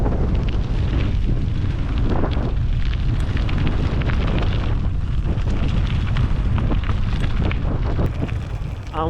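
Loud, constant wind buffeting an action camera on a mountain bike ridden hands-free down a dirt trail, roaring rumble filling the whole stretch.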